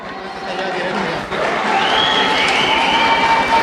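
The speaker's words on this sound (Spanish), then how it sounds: "Un aplauso para este gran grupo de la comunidad de jóvenes quichuas de la comunidad quichua de Chicago, por favor." Audience applause for a Quichua youth dance group at an Inti Raymi celebration in Chicago, a steady wash of clapping from a crowd that swells midway and continues under background chatter and a voice.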